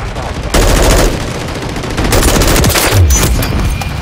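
Automatic rifle and machine-gun fire in Call of Duty: Modern Warfare III, loud sustained bursts of rapid shots with overlapping fusillades and a heavier thud near the end, no talking.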